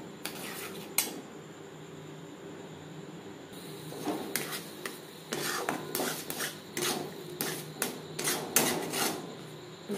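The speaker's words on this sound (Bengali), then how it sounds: "গুড়ের সাথে ছানা বেশ ভালো করে মিক্সড করে দেব।" Chhana being stirred with jaggery in a pan for monda sweets, a spoon scraping and clinking against the metal pan in irregular strokes, quiet and close.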